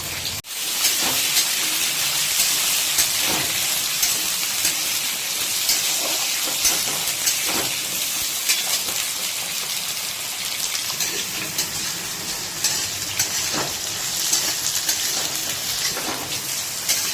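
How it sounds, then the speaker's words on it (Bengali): Radish pieces fry in oil in a pan for a vegetable curry, giving a steady, fairly loud hiss and crackle with scattered pops throughout, and no voice. "আমাদের মূলোটা মোটামুটি বেশিক্ষণ নয়, 2 থেকে 3 মিনিট একটু ভাজা হয়ে গেল"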